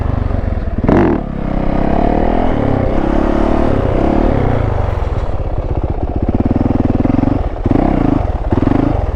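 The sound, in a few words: Yamaha YZ450 dirt bike riding in circles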